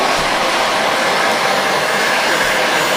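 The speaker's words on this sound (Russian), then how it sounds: "Строительный фен на 450 градусов." A handheld construction heat gun set to 450 degrees blows hot air while warming a pot of plov, producing a loud, close, unbroken whooshing roar with a steady motor whine and no voices.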